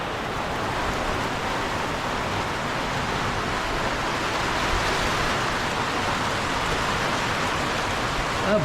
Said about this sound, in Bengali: প্রচণ্ড জোরে বৃষ্টি হচ্ছে।